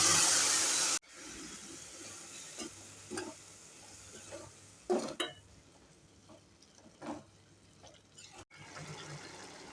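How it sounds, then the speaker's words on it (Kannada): Water, about half a cup, goes into a pan of radish and cluster bean palya, a North Karnataka dish: faint splashing and a few soft clatters of pan and utensil, alone, with no talk. "ಅರ್ಧ ಕಪ್ ಆಗಷ್ಟು ನೀರು ಹಾಕ್ತಾಯಿದ್ದೀನಿ"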